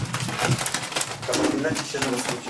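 Soft pigeon coos murmur close by amid a busy rustling backdrop, with a person talking over them.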